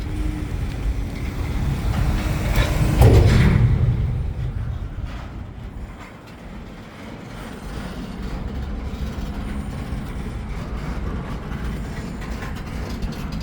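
A CN freight train slowing down at St Henri, its low rumble swelling to a peak early on, then easing into a quieter, steady rolling hum with faint wheel noise.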